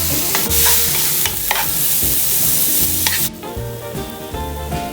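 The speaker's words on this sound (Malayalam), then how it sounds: "അപ്പോൾ നമ്മുടെ ഉള്ളി നല്ലതായിട്ടൊന്ന് വഴണ്ട് വന്നിട്ടുണ്ട്." Onions sautéing in a pan for a Kerala-style naadan beef curry, stirred repeatedly: loud, close sizzling and crackle with rhythmic scraping strokes of the spoon, easing slightly toward the end, with no talking.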